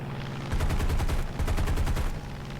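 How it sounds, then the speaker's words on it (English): Rapid bursts of aircraft cannon and machine-gun fire from an F4U-1a Corsair in War Thunder, two loud rattling volleys of closely spaced shots over a steady engine drone. "First shot's fired, ripple it across the guns."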